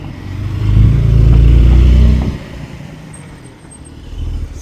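A Turbo S sports car engine roars past close by, a deep rumble that swells for about a second and a half and then drops away, with a smaller rise near the end and no talking.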